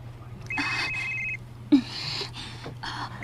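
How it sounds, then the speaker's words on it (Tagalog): A cellphone rings with an incoming call, two electronic ring bursts with a sustained tone and a brief sharp click between, moderately loud over a low steady background hum, no talking. "Ang akong cellphone. Kinsam ka ninanawag."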